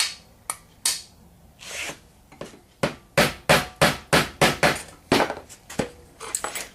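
A hammer strikes metal held in vice grips while dish tongs are being made, landing sharp, ringing blows close by, scattered at first and then in a fast, even run of about a dozen hits.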